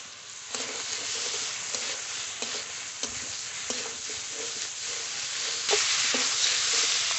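Fried potatoes go into a fish curry masala that has been cooked down until the oil separates, and the pan sizzles steadily. Sharp stirring clatters and scrapes break through the close, continuous frying, with no talking.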